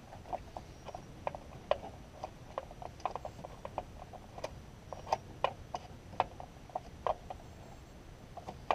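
A hand ratchet works a nut loose on a Ford fuel injector, giving a steady run of small, crisp clicks at an even pace, close and fairly quiet, with no talking.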